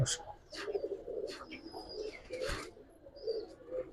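Giribaz and coloring pigeons cooing in a loft, soft repeated coos over a low murmur, with a few higher chirps and faint rustling, close and moderately quiet with no talk.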